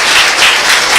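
A church congregation claps in brief, loud, dense applause, many hands beating together with no voice on top.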